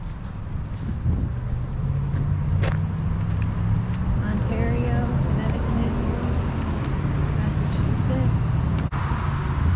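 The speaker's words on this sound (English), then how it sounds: "There's a lot of cars here." Cars sweep by on a road in Connecticut near a hiking trail, a continuous drone of traffic with vehicles passing close, while a hiker talks over the noise.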